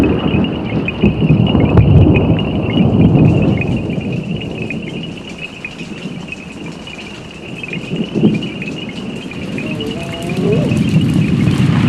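Thunderstorm with rain over the Okavango wetlands, heard as a steady broadband wash of rainfall with low rumbling swells of thunder, a constant insect drone running through it throughout.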